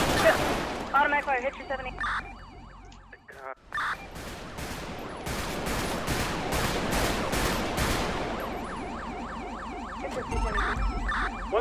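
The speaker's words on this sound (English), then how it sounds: "Shots fired." Gunshots ring out in a police game scene, with a series of sharp, loud bangs in quick succession amid wailing sirens and a dense, noisy background.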